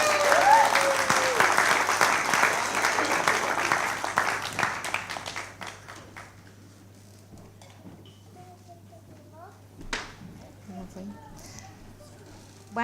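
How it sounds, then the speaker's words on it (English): A crowd applauds loudly for several seconds, the clapping gradually thinning out and fading to scattered claps and quiet. "Shall we give our volunteers a round of applause?"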